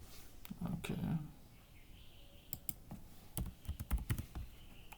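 Quiet, close typing on a computer keyboard while entering a password, with scattered clusters of soft key clicks in an irregular rhythm and faint background noise, no talking.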